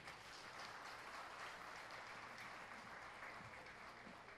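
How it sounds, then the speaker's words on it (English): An audience at a company dinner and dance applauds continuously, dense steady clapping from many hands that fills the room evenly for several seconds. "give him a big round of applause again"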